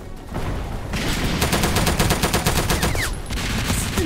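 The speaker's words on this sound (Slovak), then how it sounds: "ten typek ma zastrelil s pistolkou" Rapid gunfire in an airship battle video game, a dense stream of close, loud shots over heavy rumbling background noise, no voices.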